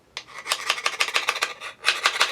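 Excess epoxy is filed off a small handmade mini slick in a run of quick, rhythmic rasping strokes, close and fairly loud, with a brief pause before a final burst of strokes.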